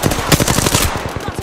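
Rapid automatic gunfire in the Apex Legends video game sounds as a fast, loud, close burst of evenly spaced shots lasting over a second.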